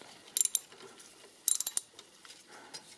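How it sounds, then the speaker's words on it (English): A ratchet undoing a bolt on the EGR valve of a 1.6 HDi/TDCi diesel engine, two quick bursts of close metallic clicking separated by a pause, then faint scattered ticks. "So that bolt, the first one is fairly easy to undo with the ratchet thing."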